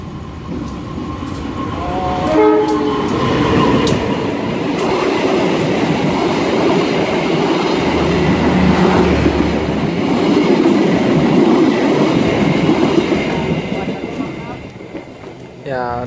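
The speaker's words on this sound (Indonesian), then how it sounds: "Setelah Serayu melintas langsung di stasiun Indihiyang, ini dia keretanya." Serayu train running straight through Indihiang station, a loud close rumble and rail clatter building and sustained throughout, with a horn blast early on and people talking underneath.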